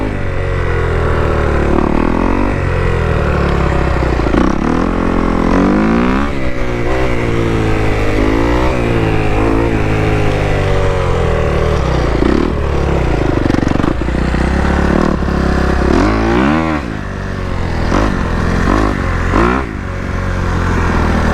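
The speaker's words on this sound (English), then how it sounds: "First, we're gonna hit a couple wheelies." A DRZ motorcycle running a performance ECU map is ridden hard through wheelies, its loud engine revving up and dropping repeatedly through the gears with steady close wind and road roar throughout.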